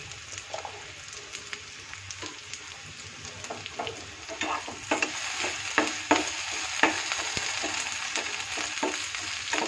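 Potatoes frying in oil in a pan, a continuous sizzle that grows louder partway through, broken by clustered crackles and scraping stirs, close by and without talk.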